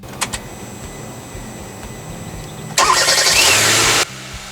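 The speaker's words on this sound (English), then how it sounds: "the last thing you want to do is connect your battery and start your car" A 2016 Kia Soul 1.6 with a newly repaired starter cranks briefly after a faint click, then roars to life with a loud burst. The engine runs for about a second before settling to a quieter idle.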